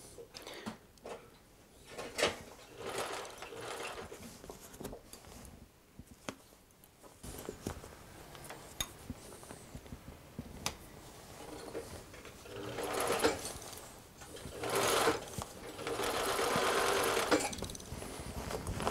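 Sewing machine stitching a seam on a muff, with bursts of rapid mechanical whirring separated by pauses, fabric handling and small clicks, recorded close with no talking.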